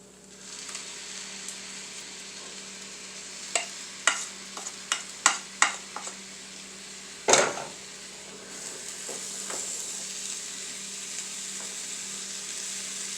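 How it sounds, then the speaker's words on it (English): Sauce goes into a pan of browned meat and vegetables for stuffed bell peppers, which keeps up a steady sizzle and crackle while a spoon scrapes and taps against the pan in a short run of sharp strokes. "Now I'm going to add a little of our sauce here."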